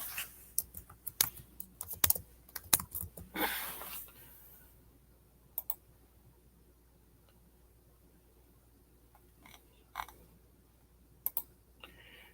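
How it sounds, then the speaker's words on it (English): Clustered clicks of typing on a computer keyboard for several seconds, then sparse, scattered key taps in a quiet room. "let me just type it up here first"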